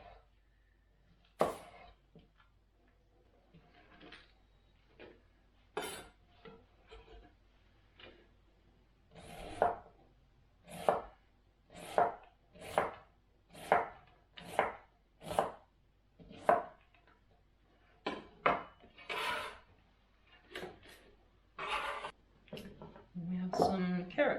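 A knife chops vegetables for a slaw on a cutting board in a home kitchen, sparse cuts at first, then a quick even run of crisp thuds, close and clear; a person speaks at times.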